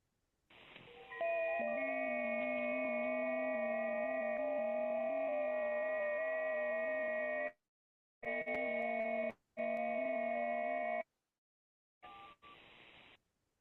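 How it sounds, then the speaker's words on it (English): Several steady digital data tones from different radio stations sound at once on a shared band, a layered chord of pure pitches that cuts out abruptly a few times near the end. "you can hear that there are several of them. Each tone is a separate station"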